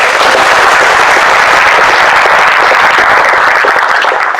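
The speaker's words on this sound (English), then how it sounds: "Give him a round of applause." Round of applause from an audience at a Texoma Patriots political gathering in Grayson County, loud dense clapping filling the whole stretch, tapering slightly at the very end.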